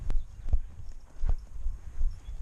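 A small horse's hooves clip-clop at a steady walk under a rider, soft dull thuds repeating close by with outdoor rumble.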